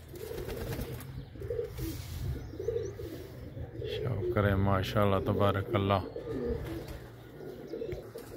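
Pigeons cooing in a loft of fancy flying pigeons: soft, repeated throaty coos close by, partly under someone speaking Hindi-Urdu, growing more prominent in the middle section.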